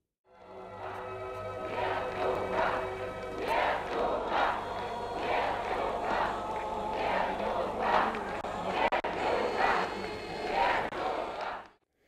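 A large crowd outside and inside a sports hall greets arriving delegates with loud, rhythmic bursts of clapping and cheering over a steady tonal background, sustained for several seconds before cutting off.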